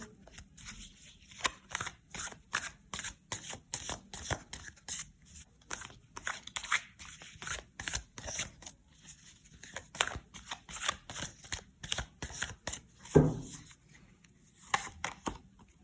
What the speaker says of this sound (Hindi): टैरो की मदद से मैं पहले कार्ड्स लेती हूँ